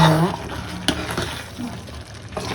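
Curry being stirred as it fries in oil in a home kitchen pan, a steady close sizzle with scraping spoon strokes and a brief clink, running continuously through the short stretch.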